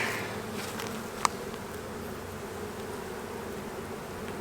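A honey bee colony drones in a steady, dense buzz at an opened hive, with one brief sharp click partway through.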